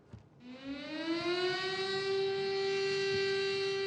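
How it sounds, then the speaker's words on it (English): A civil defense siren wails across Nanjing city during a mourning ceremony, a steady, loud rising tone that climbs and then holds a sustained pitch over several seconds, with no voices. "A siren symbolizing grief bled across the Nanjing city"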